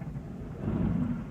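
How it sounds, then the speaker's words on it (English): Low, rolling thunder from an approaching storm rumbles steadily throughout, swelling slightly midway, with no voices. "Oh, we got a storm coming."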